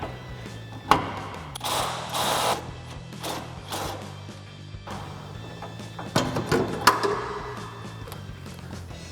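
A wrench works loose the top mounting bolt of a front strut assembly on a RAM 1500, giving clicking, ratcheting metal bursts with short pauses between them, close by and with no talking.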